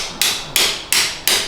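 Four sharp hammer strikes land at an even pace during a hands-on repair, each a loud, close metallic hit that rings briefly before the next blow.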